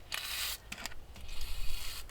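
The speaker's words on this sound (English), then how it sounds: "I found this liquid wrench without a nozzle and this spray can aid, so I'm going to see if I can make this squirt" Liquid Wrench sprays from an aerosol can fitted with a spray-can aid in place of its missing nozzle, giving a loud hissing burst, then a couple of brief spurts, then a longer rough, sputtering spray.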